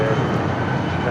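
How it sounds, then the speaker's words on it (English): A United Boeing 757 in Star Alliance livery arriving at Los Angeles International Airport; a loud, steady broadband jet roar with a low rumble, continuous throughout. "And speaking of United, 757, this one in the Star Alliance livery, flight 2434, coming in from Newark"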